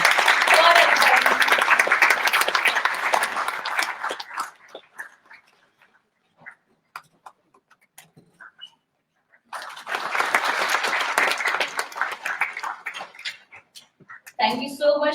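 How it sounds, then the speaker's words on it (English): Seminar audience applauding a bouquet presentation to guests: a loud, dense burst of clapping that fades after four seconds into scattered claps, then swells again in a second full round before a voice cuts in at the end. "A big round of applause for sir and ma'am"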